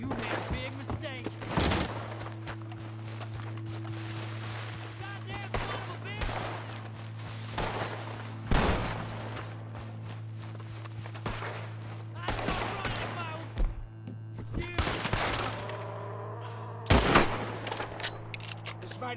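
Gunfire in Red Dead Redemption 2 cracks out as scattered shots and short bursts over a steady low background hum, several sharp loud reports standing out, with voices talking in between.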